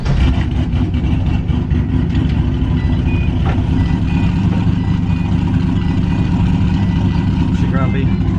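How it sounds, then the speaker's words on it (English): A turbocharged LS-swapped GTO cold-starts and settles into a loud, steady, rough idle, with a faint intermittent beeping in the background. "Cold start. The key wants to turn."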